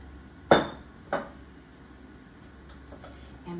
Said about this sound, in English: we're going to stir the Parmesan cheese in